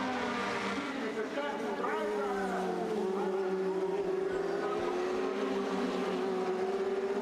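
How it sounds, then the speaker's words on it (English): International Formula Master race cars scream past at Monza circuit, engines whining and rising in pitch under continuous commentary. "Through the Roger they go, rattling the cars over the curbs as firmly as they can."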